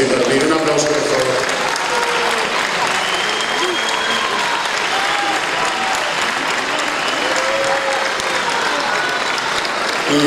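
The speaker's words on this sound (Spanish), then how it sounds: "Un aplauso, por favor." An audience claps for an official at a rally awards and thanks ceremony, a long, even wash of applause that stays loud throughout, with faint voices and tones mixed in beneath.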